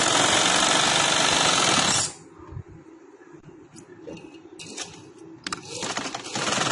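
A sewing machine runs a long seam through cotton fabric for summer pajama pants. It starts with a loud, fast, continuous rattle for about two seconds, then drops to quieter, scattered mechanical clicks and short bursts.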